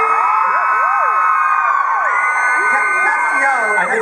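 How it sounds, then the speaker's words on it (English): A packed convention hall crowd at San Diego Comic-Con 2011, during a Supernatural panel, screams loudly and continuously with high, wavering shrieks and whoops that rise and fall throughout. "I think they're screaming"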